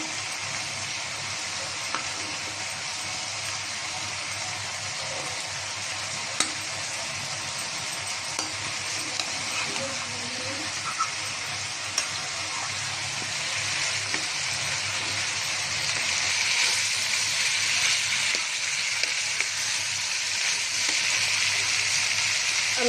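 Nola fish pieces frying in cooked-down spice masala, a dense continuous sizzle that holds steady and swells louder in the second half, with occasional faint clicks and no voices.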